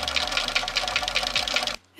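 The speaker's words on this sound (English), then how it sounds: "I'm sewing it again on the other side" A sewing machine stitches velvet ballgown pieces, a steady close rapid whirring run that stops abruptly near the end.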